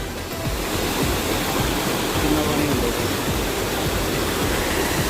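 Water rushing along the Vaishno Devi pilgrimage route, a loud, dense, continuous roar of flowing water that stays steady and close throughout with no voices over it.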